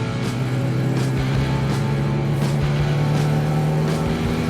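A Reliant Robin three-wheeler drives onto an American interstate, its engine droning steadily over constant road and wind noise heard from inside the car, with the pitch rising and falling slightly.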